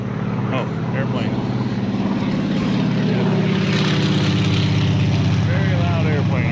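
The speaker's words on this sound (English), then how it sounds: "Very loud airplane right there." A propeller airplane flies low and loud overhead, its steady droning engine roar filling the whole stretch at close range.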